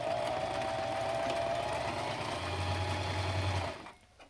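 A sewing machine runs steadily at close range, stitching a seam on a fabric face mask with a continuous mechanical whir and rattle, then stops abruptly near the end.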